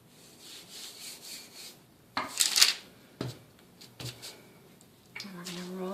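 A rolling pin rolls out Danish klejner cookie dough on a floured surface, making a few separate rubbing, wooden scraping strokes at irregular intervals, close and fairly soft, with quiet gaps between them.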